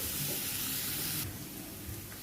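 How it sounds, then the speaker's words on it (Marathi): Barnyard millet (varai) being sautéed in a pan gives a steady dry sizzle and rustle that drops to a quieter hiss about halfway through. "छान असं थोडं मी परतवून घेते"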